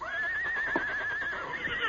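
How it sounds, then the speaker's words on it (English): Scout, Tonto's horse, lets out a long wavering neigh at moderate distance in a dense timberland setting, with faint background noise underneath. "Hey, a horse is nearby."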